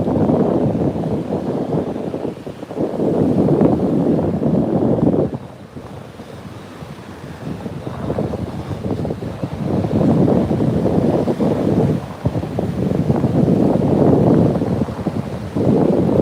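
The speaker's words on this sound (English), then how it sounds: "Can you hear the waves?" Ocean waves at a beach wash in and recede in long surges, loud and close, with gusting wind buffeting the microphone throughout.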